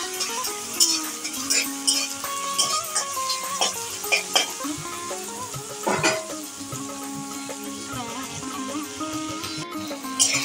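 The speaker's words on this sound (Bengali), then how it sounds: "এখন ভালো করে নাড়িয়ে চাড়িয়ে ভেজে নেব" Onion, tomato and chopped chilli sizzle in a pan while being stirred, a steady close frying hiss broken by the clink and scrape of a spoon against the metal.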